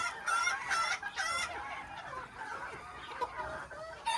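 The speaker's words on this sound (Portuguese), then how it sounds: "eu coloco esse galo aqui pra" Chickens clucking, with a rooster's calls rising over the flock in a busy, continuous coop chorus at moderate distance.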